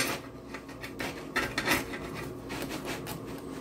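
A knife cuts through a crispy pizza in a Lodge cast iron pan, giving a series of close, crunchy scraping and clinking strokes against the metal at an uneven rhythm.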